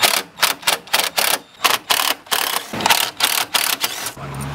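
Rapid ratchet clicks in bursts as a hand ratchet backs out the bolts holding the grille to the front bumper of a 2015 Mustang GT, loud and close with short pauses between runs.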